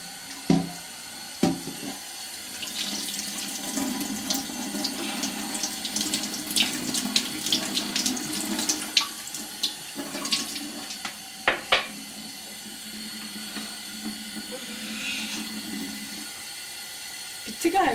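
Water drains and trickles from a toy dishwasher, a running, splashing flow close by with gurgles and clatters, while a child and an adult talk over it.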